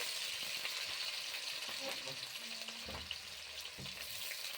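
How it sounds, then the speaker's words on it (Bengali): Cinnamon, cardamom, bay leaves and dried red chillies sputter in hot oil for a jackfruit curry, a steady close sizzle with small crackles throughout and faint clinks near the end. "দারুচিনি, এলাচ, তেজপাতা আর শুকনো লঙ্কা ফোড়ন দিয়ে দিলাম"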